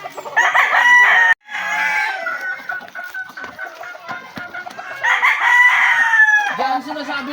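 Gamefarm roosters crow loudly nearby, two long drawn-out calls a few seconds apart, with softer clucking and faint farmyard noise between them.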